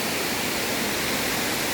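Steady broadband roar of Dunumala waterfall in Gampaha, Sri Lanka, filling the scene evenly and loudly with no pauses or other sounds.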